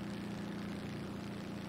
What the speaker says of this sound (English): Now my engine's taken damage